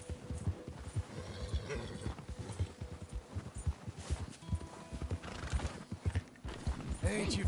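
A horse clip-clops along at a steady walking pace, with hoofbeats close and clear and a brief whinny breaking in; a soft voice is faintly present beneath the hooves.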